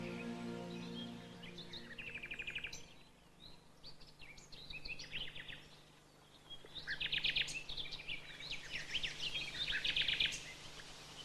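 Several birds sing in a dense, cut-back thicket near an old oak, with bright chirping phrases in two bursts separated by a quieter pause, moderately close against a soft steady background.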